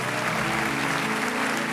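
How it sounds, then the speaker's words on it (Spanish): Audience applause for mothers at a talk, dense, even clapping from a large crowd, sustained and steady throughout. "Un aplauso a todas las mamás que sacan así a sus hijos."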